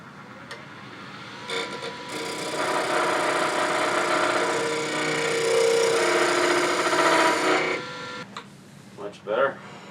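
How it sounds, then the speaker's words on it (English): Skew chisel taking a smoothing cut on a spinning wooden tool handle at the lathe, a steady broadband hiss and whir held for several seconds, close and fairly loud, with brief knocks and softer moments before and after. "I think I'm going to take my skew, see if I can't get a little bit of a smoothing cut there."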